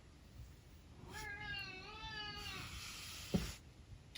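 A cat meows in one drawn-out, wavering call near the microphone, followed by a brief sharp knock, in an otherwise quiet room.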